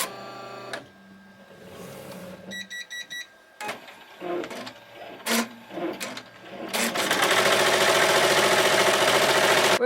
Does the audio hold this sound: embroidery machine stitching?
yes